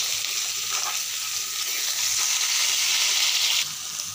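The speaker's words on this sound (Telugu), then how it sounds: "ఇప్పుడు కరివేపాకు యాడ్ చేస్తున్నాం ఫ్రెండ్స్" Curry leaves fry in hot oil with chopped onions for mutton keema curry, giving a loud, steady sizzle with brief stirring scrapes and a slight drop in intensity near the end.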